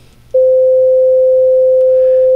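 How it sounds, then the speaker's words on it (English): A steady pure sine test tone starts abruptly after a short quiet moment and holds at one constant pitch and loudness to the end, loud and alone. "I'm going to bring up an oscilloscope here of this same sine wave"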